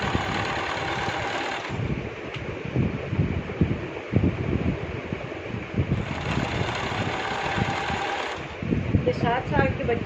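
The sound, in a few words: sewing machine stitching a child's shirt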